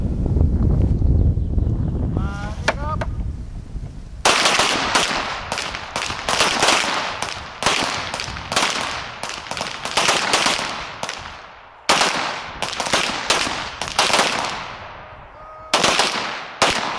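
Gunfire at a shooting competition in Kalix: after wind buffeting, rapid sharp shots burst out in dense volleys with brief pauses between, loud and near, with wind noise under the firing.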